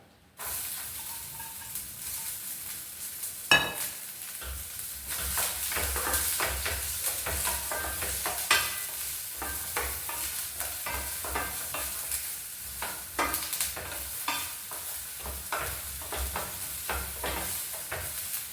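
Chopped ginger, green chili and onion tossed into hot coconut oil, crackling into a continuous close sizzle with repeated scraping and stirring strokes of a utensil against the pan, no voices over it.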